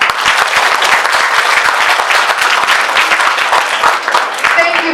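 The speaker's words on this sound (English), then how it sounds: "can we please have a huge round of applause for him?" Loud, dense applause from an audience honoring a speaker's father at a family tribute event, steady clapping filling the whole stretch with a brief voice near the end.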